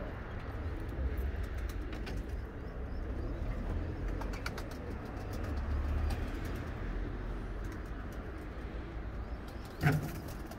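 A pigeon kept by a rooftop bird fancier coos softly amid faint background noise, with a brief sharper sound near the end and no talk.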